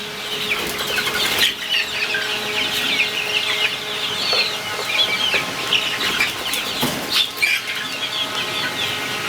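Fayoumi chickens at a small farm clucking and calling over a busy background, with bursts of flapping wings now and then, moderately close and with no talk.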